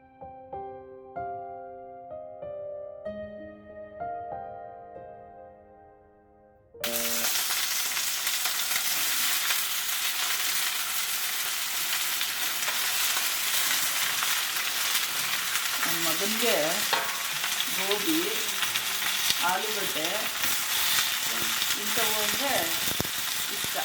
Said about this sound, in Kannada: ಇನ್ನೊಂದು ಬಾಂಡಿ ಇಟ್ಕೊಂಡು ಒಂದು ಸ್ವಲ್ಪ ಎಣ್ಣೆ ಹಾಕ್ಕೊಂಬಿಟ್ಟು ತರಕಾರಿ ನಾವೇನು ತೊಗೊಂಡಿದ್ದೀವಲ್ಲ ಅದನ್ನು ಫ್ರೈ ಮಾಡ್ಕೋಬೇಕು